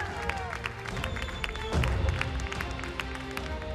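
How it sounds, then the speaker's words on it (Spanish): Steady applause from a TV studio audience, with a swell of louder clapping and cheering midway, a busy mix of many hands throughout. "Fuerte el aplauso"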